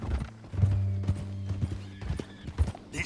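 Horse hooves clip-clop in Red Dead Redemption 2 as a bound rider is carried toward Saint Denis, steady thudding steps under a low game soundtrack hum, with creaking tack and a brief whinny-like tone.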